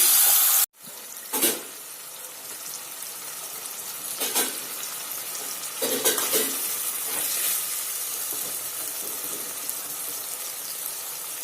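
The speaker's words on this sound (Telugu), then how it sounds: "ఇప్పుడు గిన్నె కూడా వేడెక్కింది నూనె వేడెక్కింది ఇప్పుడు దీంట్లో నుంచి ముక్కలు ఇలా వేసుకోండి" Chicken pieces dropped into hot oil in a pan for Hyderabad red chicken curry, giving a steady close sizzle with brief louder bursts as pieces go in, no talking.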